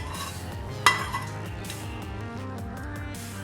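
A spoon clinks against a pot once as ghee-fried cashews and raisins go into sago payasam, followed by soft stirring over a steady low background hum.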